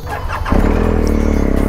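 A motorcycle engine starts up about halfway in and settles into a steady, loud idle as it warms up, close by, after a brief stretch of background noise; no voices.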